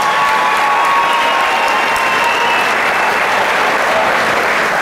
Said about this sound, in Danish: de skal lige have en bifald til det her publikum.